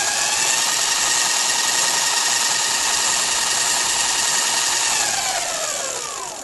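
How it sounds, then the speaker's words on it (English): An electric bike motor runs on 48 volts, a loud, steady whirring hum throughout, winding down slightly at the very end. "I've wired it up and it runs and the motor's smooth enough and it chooches along nicely."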